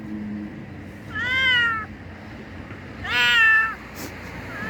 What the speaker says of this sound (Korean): 야옹 야옹 야옹